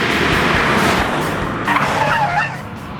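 Subaru WRX STI Type RA driven hard on the track at NCM Motorsports Park, a loud continuous engine roar with tire squeal and skidding noise throughout, fading slightly toward the end.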